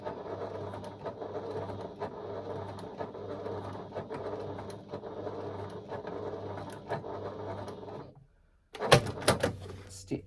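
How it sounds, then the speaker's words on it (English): A sewing machine runs slowly through a couple of back stitches: a steady rhythmic mechanical whir and tapping for about eight seconds, then a pause and a short clatter of handling noise. "I'm going to slowly just doing a couple of back stitches to secure my stitching."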